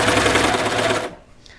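A sewing machine stitches a knit T-shirt seam through several layers in a quick, rapid burst of needle strokes that stops abruptly after about a second.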